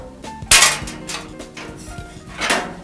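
Metal parts of a MeatOMatic meat slicer clanking as the thickness adjuster is taken off beside its stainless steel top: a loud metallic knock, then smaller rattles and a second clang, close, no talk.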